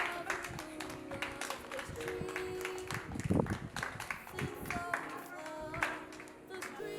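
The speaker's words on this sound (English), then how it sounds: "the Jewels could not help their excitement as they continue to clap" An excited group keeps clapping, a dense run of quick, uneven hand claps throughout at moderate loudness, with voices talking and cheering underneath.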